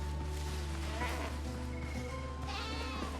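Goats bleating in the pirate survival video game Windrose, a few overlapping animal calls over a steady game soundtrack and ambient hum, fairly close and continuous.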